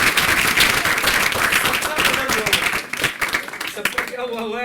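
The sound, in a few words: audience applause at a workshop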